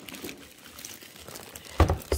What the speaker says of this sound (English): I'm gonna unwrap this.